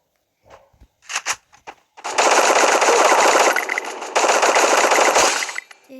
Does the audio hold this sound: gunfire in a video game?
yes